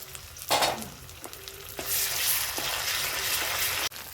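Ginger, garlic and onion paste hits a hot pan for a chicken dish, breaking into a loud, steady sizzle after a few early stirring scrapes, with no talking.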